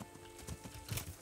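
Horse hooves clip-clop in the video game Kingdom Come: Deliverance as the horse is ridden, several quick, uneven hoofbeats up close over a faint ambient bed.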